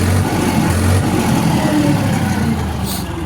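A Digitrac PP43i 47 HP tractor engine runs close by at a steady, rumbling idle, loud and continuous, with no voices.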